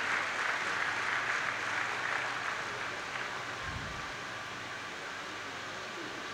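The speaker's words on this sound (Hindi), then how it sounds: "आपकी तालियों की गड़गड़ाहट इन बच्चों के उत्साह को और बढ़ाएंगी" Audience applause at a Chaudhary Bansi Lal University event in Bhiwani, a steady wash of clapping that softens slightly toward the end, with a brief low thump partway through.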